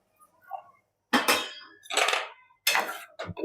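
Pressure cooker lid handled in a home kitchen while potatoes cook for a Kathiyawadi thali, heard as three loud bursts of metallic clattering and clanking, with a faint soft knock before them and no talking.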